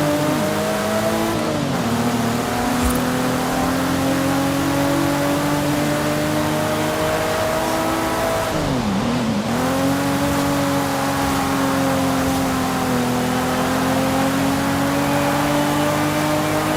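Sequential twin-turbo Japanese tuner car in Forza Horizon 5 revving steadily, a loud continuous engine drone with harmonic whine that dips sharply as revs drop around the middle, then climbs and holds again.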